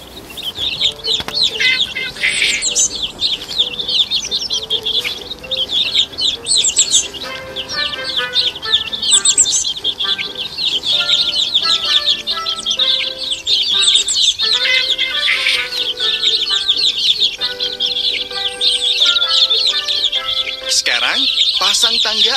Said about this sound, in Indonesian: Ayo beri makan anak-anak burung yang lapar itu dengan biji-bijian.